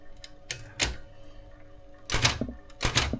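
Keys and controls on a Japanese Olympia typewriter snap in sparse, crisp strokes, a few isolated clacks followed by a quick double strike, close and clear in a quiet room.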